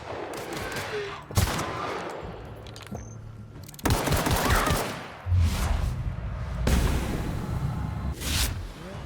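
Gunfire from shooting an enemy in the video game The Outer Worlds: loud bursts of rapid shots with whooshing impacts, several separate volleys across the stretch.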